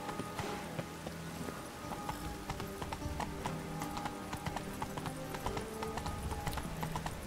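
Steady clip-clop of horse hooves trotting at a quick, even rhythm in the video game The Witcher 3: Wild Hunt, fairly close, with a busy, slightly artificial game backdrop and no talking.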